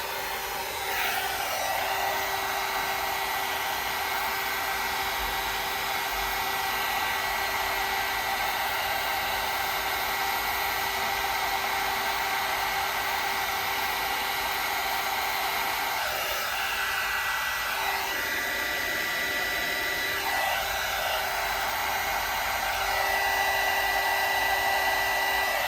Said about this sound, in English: It goes faster if you heat up your heat gun.